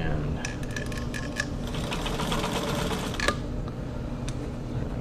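Close, steady mechanical whir and rapid ticking of a White 1044 sewing machine running full zigzag stitches, with a few sharper clicks and light background noise.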